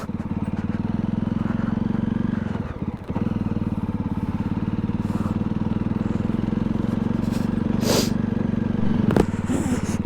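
A motorcycle climbing a muddy mountain road in first gear on the Khardung La route in Ladakh: a close, steady engine drone that dips briefly, with scattered clatter and scrapes.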